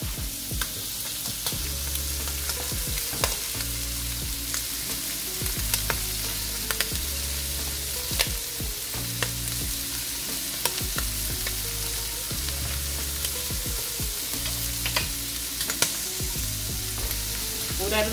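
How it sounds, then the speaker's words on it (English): Tomatoes cooking down in a pot give a steady close sizzle and bubbling hiss, broken by repeated clatters and scrapes of stirring. "So I'm just cooking down the tomatoes"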